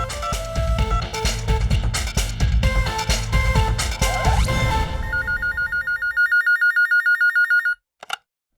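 A telephone bell rings in rapid repeated bursts over loud music, then the music fades and the electronic trill rings alone before cutting off.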